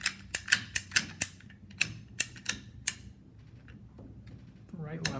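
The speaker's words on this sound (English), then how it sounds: "I could just take some snipping tools, such as this one here, and open that up, and then just cut this off" A snipping tool clicks sharply through a plastic sprinkler riser, about a dozen close crisp snaps in an uneven sequence, then a faint voice starts to speak.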